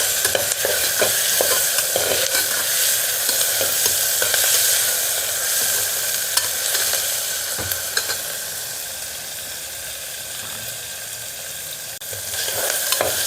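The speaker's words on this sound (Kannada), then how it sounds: "ಇವಾಗ ಟೊಮೆಟೊ ರೆಡಿಯಾಗಿ ಎಲ್ಲವೂ ಕೂಡ ನೀಟಾಗಿ ಇವಾಗ ಫ್ರೈ ಆಗಬೇಕು" Tomatoes and spices fry in a pan for potato saagu, a loud, close, steady sizzle with occasional stirring scrapes that eases slightly midway and rises again at the end.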